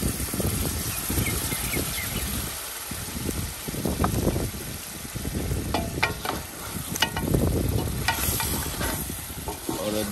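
Yogurt sizzles and fries in browned masala for a goat-trotter mutton paya curry while a spoon stirs it, with repeated scraping strokes over a steady crackling hiss.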